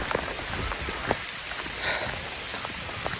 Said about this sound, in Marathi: पावसाने परत सुरुवात केली आता चिरीमिरी चिरीमिरी पडतोय